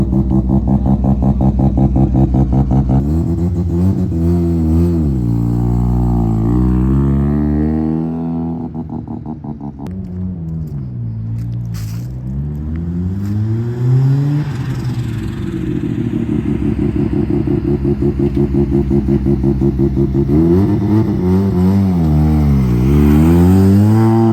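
A rotary-engine-swapped Subaru BRZ idles and revs up and down in a buzzy, rising and falling drone, loud and close, with clattering between revs.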